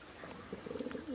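A pigeon gives a short, soft cooing call while held in the hand in a loft, a few low murmuring notes rising at the end, faint and close.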